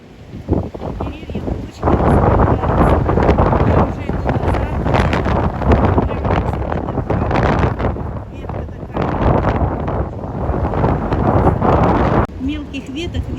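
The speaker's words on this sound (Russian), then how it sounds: "Потому ветер не прекращается." Strong, near-hurricane wind roars loudly and continuously against the microphone outdoors, gusting without pause for the whole stretch, with a person's voice faintly audible at times.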